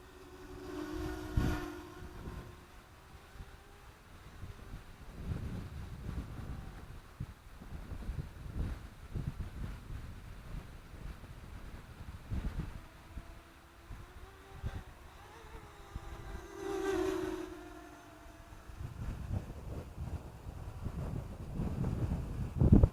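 Wind gusting outdoors while a King Kong 260 quadcopter flies, a steady rumbling buffet on the microphone with a faint motor whine rising and falling at times, fairly quiet throughout.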